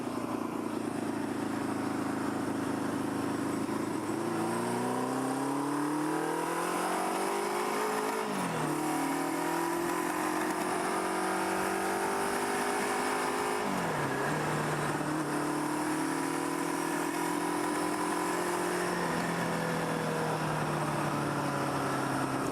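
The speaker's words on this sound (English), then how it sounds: "That's definitely popping and backfiring a lot more than it was last time." A Kawasaki KZ650 motorcycle engine runs steadily nearby with rising and falling revs, a rough, continuous rumble broken by uneven pops from a poorly timed build.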